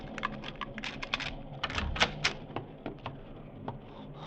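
In a radio drama scene, a key turns in a door lock and the door opens: a rapid series of small sharp clicks and rattles, then a dull thunk, close and clear.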